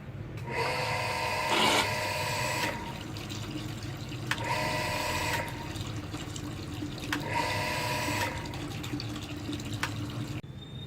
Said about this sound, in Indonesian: pompa akan saya nyalakan.